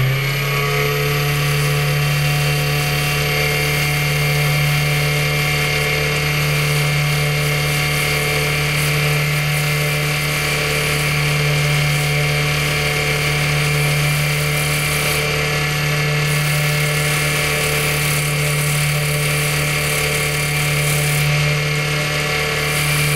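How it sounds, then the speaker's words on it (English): Wood lathe spinning a bud vase while sanding sealant is cut back with a scotch pad, a steady continuous motor hum with a strong low drone and constant whirring, unbroken and close throughout. "Just going to cut it back with a scotch pad."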